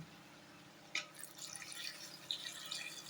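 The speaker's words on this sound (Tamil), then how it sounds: "அதுக்கு அடுத்து தண்ணி ஊற்றி" Water is poured into a cooking pot while making a Tamil tamarind kuzhambu, a faint, soft trickling splash that begins after a second of near silence and carries on gently to the end.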